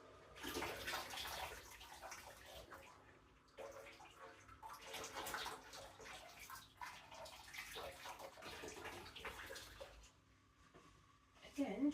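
Boiling water poured from a kettle over elderberries for syrup in a home kitchen, a steady splashing stream that runs for several seconds with brief pauses, close and moderately loud, with a person talking over it.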